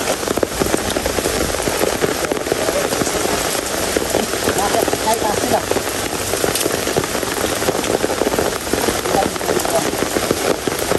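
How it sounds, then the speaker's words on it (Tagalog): Heavy rain pouring down steadily, a dense, constant hissing roar that fills the whole stretch without letup. "malakas pa rin po ang ulan hanggang ngayon"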